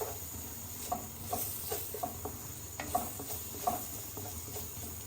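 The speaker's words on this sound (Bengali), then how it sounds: "এরপর ভালো করে মশলাটা আমি ভেজে নেব" Chole masala spice mix frying in a pan, a soft continuous sizzle with scattered light crackles and scraping stirs, heard alone at close range.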